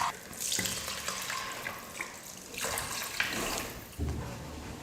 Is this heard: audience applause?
no